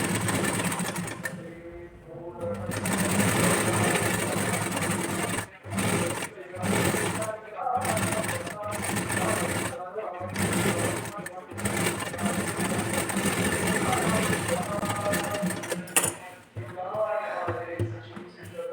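A sewing machine stitching the neckline of a blouse: steady rapid mechanical whirring in bursts with brief stops and restarts, close and prominent, while someone talks over it.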